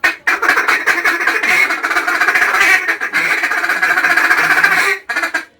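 A hunting duck call imitates duck quacks in a loud, close, rapid run of raspy quacks, ending with a brief short burst.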